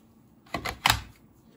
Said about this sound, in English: the clicking that you hear is me putting the battery on this knockoff charger's connector on top